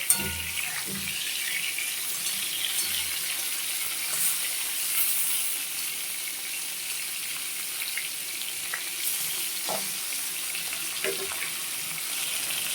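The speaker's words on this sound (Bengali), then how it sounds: "এখন আমি নুন হলুদ মাখানো মাছগুলো ভেজে নিচ্ছি রুই মাছ" Rohu fish pieces rubbed with salt and turmeric sizzle and crackle steadily in hot oil, a continuous close frying hiss with occasional soft pops and spatters.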